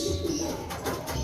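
A Kuipers line racing pigeon hen coos close by, a couple of low, soft rolling calls heard over quiet loft background noise, with no talking.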